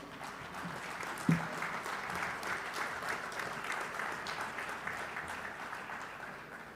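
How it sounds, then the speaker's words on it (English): A large audience applauds the President at a livestreamed visit to the SAPPI upgrade and expansion project in Umkomaas, steady distant clapping with one sharp thump early on, faint and even throughout. "Indeed, the President deserves that huge round of applause till he sits down"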